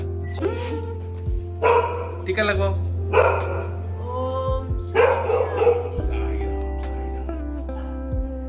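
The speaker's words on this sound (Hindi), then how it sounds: "बड़ा कुत्ता है क्या?" A big dog barks several times at a family home during a visit, its bow-wow barks spaced through steady background hum while people talk over it.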